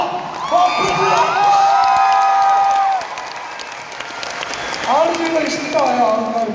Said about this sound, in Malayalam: please put your hands together for Prithviraj